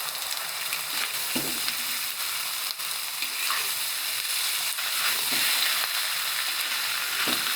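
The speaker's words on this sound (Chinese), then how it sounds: "牛腩进去翻炒" Beef brisket stir-fries in a wok with a cooked-down sauce of slab sugar and star anise over high heat, a loud, dense sizzle broken by the scrape and clatter of the spatula turning the meat.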